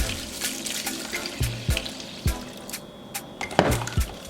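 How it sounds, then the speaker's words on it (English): Water is poured from a tap into a bowl of fish-flavor soup mix for Jamaican steamed fish, with close, intermittent splashing and trickling and a few sharp knocks against the bowl. "And add some water to it."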